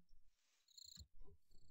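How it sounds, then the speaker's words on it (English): Crickets chirping in a modded video game world, faint high-pitched trilling pulses heard quietly with soft low rumbles and noises underneath. "These are crickets. Grasshoppers. I don't even know."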